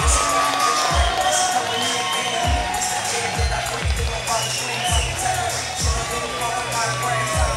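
A wrestling crowd in Winston roars and cheers for AJ Styles' arrival at a PWX show, with a steady, dense crowd din, heavy rhythmic thumps and a commentator's voice over the top.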